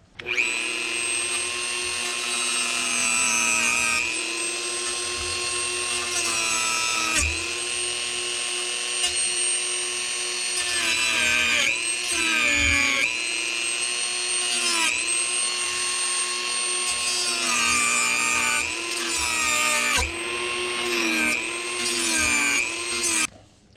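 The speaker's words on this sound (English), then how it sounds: "So with this G10 cutting, my Dremel disc just isn't even long enough to do a good cut." A Dremel rotary tool with a cutting disc slices through G10 knife handle scales, giving a loud, steady high-pitched whine with strong harmonics that runs almost continuously, dipping and catching briefly as the disc bites into the material.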